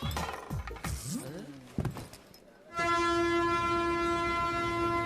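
A train rolls along with rattling, clattering noise and voices over it, then a loud, sustained horn blares close by and holds steady to the end.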